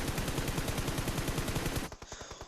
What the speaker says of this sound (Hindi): कुन अगुएरो की 3-4 गोलियां पड़ी हैं।